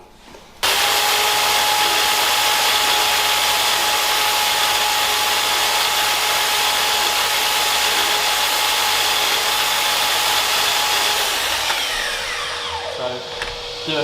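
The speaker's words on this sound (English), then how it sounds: "So my laser line is in line with the blade, and then that angle is the angle we want to cut to fit our skirting board." A power saw with a laser guide cuts a skirting board at an angle, a loud, continuous high whine with steady motor hum that runs for over ten seconds before winding down.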